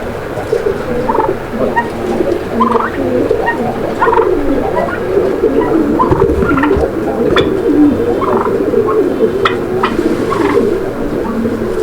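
Pet pigeons coo repeatedly in soft, throaty phrases over a dense, steady background of other birds murmuring close by.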